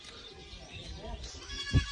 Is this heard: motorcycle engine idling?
no